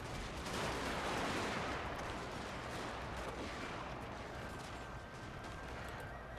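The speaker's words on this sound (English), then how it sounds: "Now I really need to tell my troops to prioritize firing on the samurai." Massed musket volleys and artillery fire from a Total War: Shogun 2 Fall of the Samurai battle form a dense, continuous roar of overlapping gunfire, loud and unbroken throughout with no clear single shots standing out.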